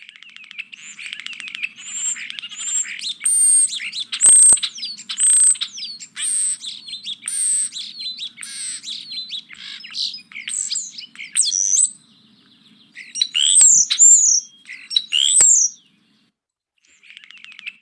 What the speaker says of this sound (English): it sounds like they're chattering and making multiple sounds at the same time